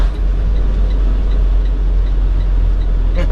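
A truck engine drones steadily and loudly from inside the cab as the driver downshifts, a low continuous rumble with little change, ending in a brief mechanical clunk.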